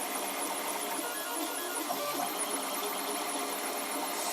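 A 3D printer runs continuously nearby with a belt-drive setup, giving a steady buzzing whir of stepper motors with faint changing tones and no speech.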